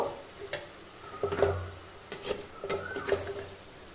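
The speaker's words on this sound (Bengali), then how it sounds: "এবার চলো এর মধ্যে আমি দিয়ে দিচ্ছি পোস্ত বাটাটা ভালো করে পোস্তর সাথে এটাকে কষিয়ে নেব" Poppy seed paste is sautéed with soft drumstick pieces in a pan, giving a quiet sizzle broken by a few scraping, tapping stirs of a spatula.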